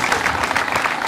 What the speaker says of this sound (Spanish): el aplauso para vos